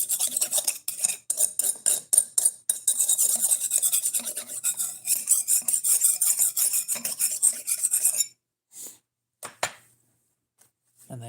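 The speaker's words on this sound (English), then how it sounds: "I sharpen better than he does, just by doing this." A knife is sharpened with a quick run of rhythmic rasping strokes, loud and close, for about eight seconds, then a few scattered scrapes follow before it stops.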